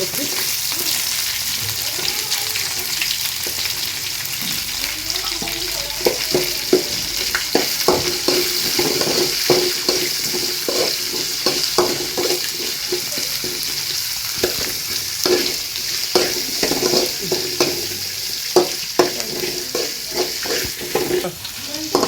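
Onions frying in a pan for cabbage palya, a continuous loud sizzle broken by frequent clicking, scraping stirs of a spoon against the pan, close and without talk.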